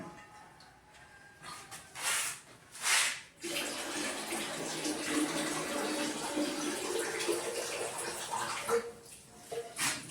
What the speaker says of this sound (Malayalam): വെള്ളം ഒന്ന് ചേർത്ത് കൊടുക്കാം കുറച്ച് വെള്ളം ആയിക്കോട്ടെ